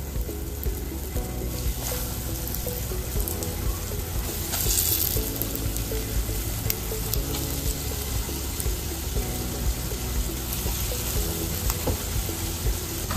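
Fish frying in hot oil in a pan over a low flame for a lemon butter garlic dish: a steady, close sizzle throughout with no talking.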